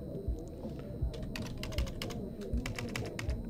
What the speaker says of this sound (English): Read the words that I'm typing in.